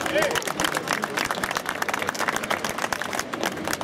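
Audience applause for two apprentices who built a Harley-Davidson V-Rod motorcycle, steady dense clapping from a crowd filling the whole stretch with a murmur of voices beneath.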